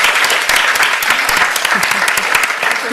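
A festival audience gives a loud, sustained round of applause for competition winners, dense clapping from many hands filling the hall evenly throughout, with only faint voices underneath.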